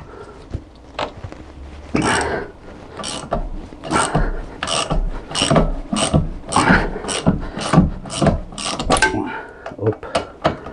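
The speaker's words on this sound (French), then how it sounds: "Je vais essayer de l'enlever au cliquet." A hand ratchet works loose an inverted Torx E20 bolt during a rear spring replacement on an Opel Zafira, giving close, rapid bursts of metallic clicking in repeated strokes, with short pauses between them.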